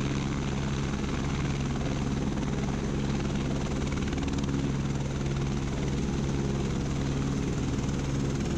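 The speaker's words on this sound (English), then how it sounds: "As the helicopter approached," A search and rescue helicopter draws near a high rock ledge, its rotor chop and engine roar loud and steady throughout, a dense continuous drone with no voices.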